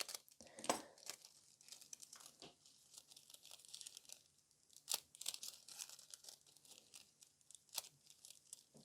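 Thin silver transfer foil for nail art being handled, crinkled and torn, giving close, quiet bursts of crackling and ripping at irregular moments over a faint steady hum.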